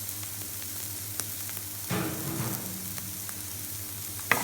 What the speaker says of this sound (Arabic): ذبت الثوم أنا هسه ينحمس وياه، ينطي نكهة طيبة وحلوة.